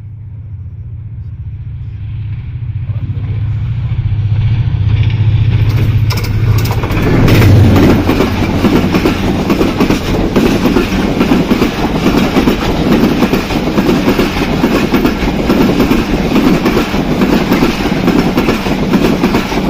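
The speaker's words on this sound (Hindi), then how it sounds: "ट्रेन आ गई है देखते हैं फास्ट एक्शन" A train arrives at Badal Nala station in Karachi. A deep rumble builds from faint to loud and close, then settles into a steady roar with rapid rhythmic clatter of wheels over rail joints.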